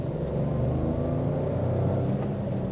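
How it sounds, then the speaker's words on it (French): A Renault Clio Intens engine accelerates while driving in second gear after a downshift, a loud, steady mid-pitched rumble and whir heard from inside the car with no talking. "quand on appuie, on entend le moteur"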